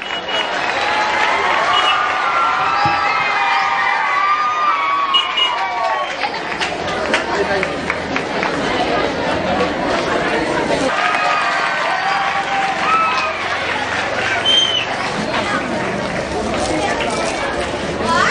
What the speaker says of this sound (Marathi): करा की तुमचे आई वडील इथे दिसले पाहिजे यासाठी जोरदार टाळ्या